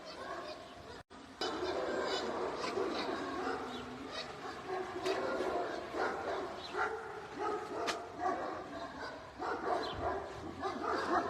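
Several house dogs running off leash outdoors bark and yip excitedly in a continuous jumble, mixed with people talking nearby.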